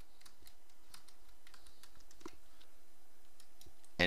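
Quiet, close keystrokes on a computer keyboard as a password is entered during a WordPress install, a run of soft, irregular clicks over a few seconds ending in one sharper tap.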